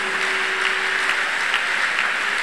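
A congregation at a church testimony service claps for Jesus in a dense, sustained wash of applause that stays loud and even throughout, with no distinct voices on top.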